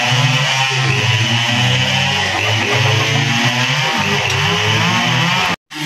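A chainsaw cuts into a tree nearby, its engine buzzing loud and continuous with shifting pitch as the chain bites, before a sudden brief cut-off near the end.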